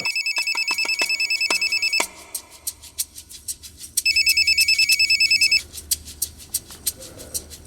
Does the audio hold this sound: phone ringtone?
yes